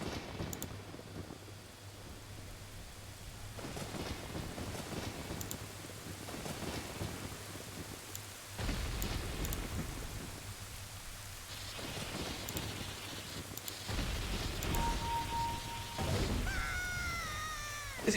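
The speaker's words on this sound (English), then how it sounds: "it starts raining here, getting really ominous" Rain and rolling thunder in the Ocarina of Time video game, a steady wash of rainfall with deep rumbling swells and sudden cracks, while bright chiming game tones rise toward the end.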